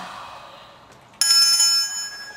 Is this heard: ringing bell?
yes